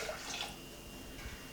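Water pours steadily into a pressure cooker holding dal, a soft, continuous splashing rush that stays faint and even throughout, with no speech.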